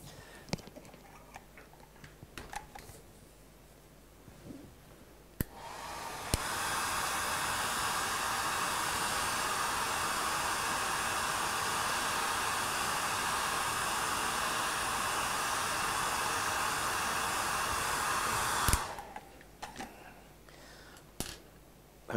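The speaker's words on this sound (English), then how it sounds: "Let me just get the hair dryer quickly." A hair dryer runs steadily for about thirteen seconds, drying paint on a drawing of square paving stones, with quieter handling noises before it switches on and after it stops.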